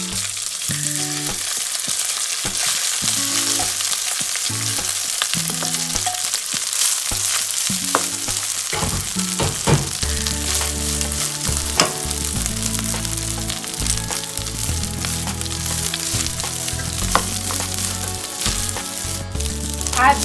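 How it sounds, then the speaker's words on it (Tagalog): Rice frying in a pan for Filipino beef pares, a steady loud sizzle running the whole time, with a strong tonal layer of background music playing throughout. "We can now fry the rice on the same pan."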